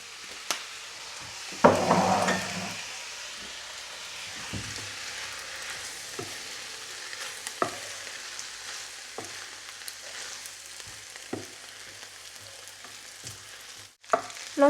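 Noodles frying in melted butter with soy sauce, stirred in a pan in a home kitchen: a faint sizzle broken by sparse utensil clicks and taps, with a louder burst of frying near the start.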